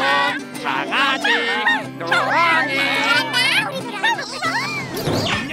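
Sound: puppy barking

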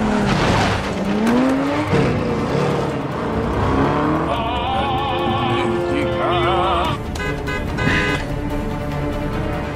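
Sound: car chase scene from a James Bond film

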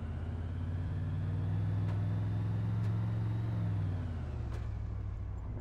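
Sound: car driving away in Arma 2 video game

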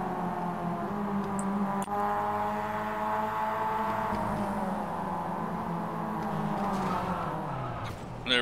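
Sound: race car close behind in video game iRacing

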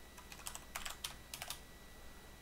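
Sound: typing code on a computer keyboard

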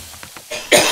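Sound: cough

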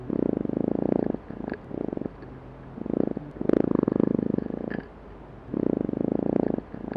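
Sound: Drosophila melanogaster fruit fly courtship song

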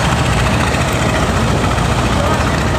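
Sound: engine of the MKhan 7 river passenger launch passing slowly

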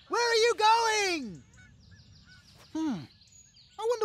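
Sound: cartoon birds honking as they fly away

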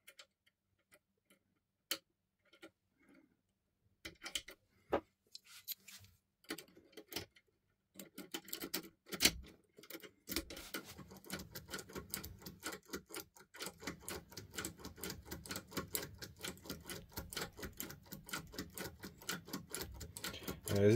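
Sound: Topolino decoder picking a Viro 6-pin lock

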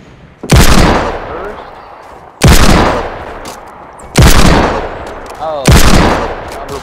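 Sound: revolver gunshots in Fortnite video game

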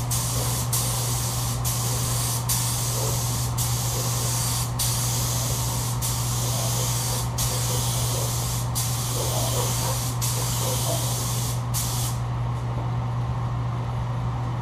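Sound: spray paint being sprayed in light coats for hydro dipping

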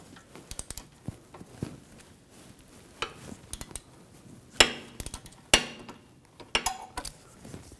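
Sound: bolt being removed with an 8 mm hex socket

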